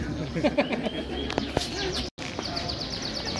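Canaries singing at a bird-song contest, a dense mix of bright chirps and trills from several birds over the hum of a crowd, with voices talking in the background and a brief dropout midway.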